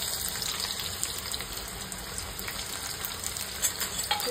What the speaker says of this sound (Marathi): हे 3 पळ्या तेल घातलेलं आहे, त्याच्यात घालूया कांदा।